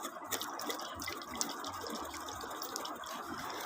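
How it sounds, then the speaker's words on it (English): Coconut water trickles and splashes as it is poured into a cup, a faint, continuous liquid pouring with small drips. "Pour the water inside the cup."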